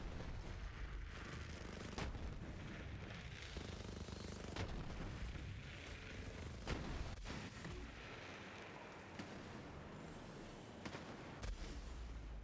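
Shots from the Monarch rifle in Borderlands 3 keep coming in steady, rapid bursts over a constant loud layer of game action and booms.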